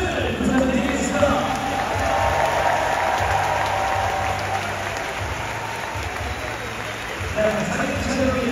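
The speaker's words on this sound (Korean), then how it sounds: "여러분 뜨거운 박수를 부탁드리겠습니다" Audience applause at a farewell ceremony for a baseball player in Korea, a full, continuous clapping wash with some cheering, fairly close and steady, with a few voices and low rumbles mixed in underneath.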